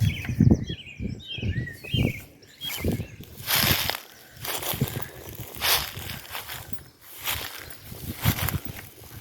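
Birds chirp and twitter around an old church building in Ireland, with scattered calls over a busy outdoor background of rustling and footsteps, fairly close.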